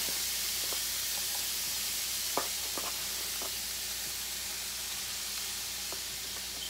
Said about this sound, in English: we are going to first dump in our ground beef. It's sizzling